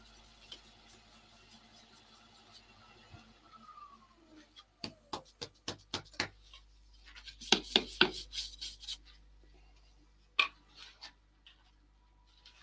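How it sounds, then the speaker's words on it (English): Quick bristle strokes brushing sanding dust off a turned wood piece on a lathe, sounding as short scratchy bursts in irregular clusters against a quiet background. "Give it a quick brush out."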